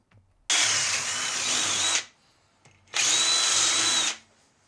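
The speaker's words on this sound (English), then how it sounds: "we'll start by drilling 2 holes" A power drill whines loudly in two long bursts of about one and a half seconds each, separated by a short pause, close to the listener, drilling holes while changing drive shaft oil seals on a classic Mini.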